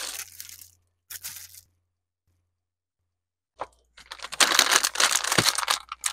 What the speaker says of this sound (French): On va commencer par déballer le hub USB.